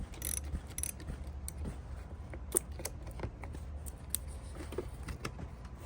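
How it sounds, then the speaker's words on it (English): A 10 millimeter ratchet loosens the battery terminal nut on a 2010s VW Passat, giving off faint, quick, irregular clicks and metallic ticks close by with no speech. "this is a 10 millimeter ratchet. What I'm going to do here is I'm going to loosen this."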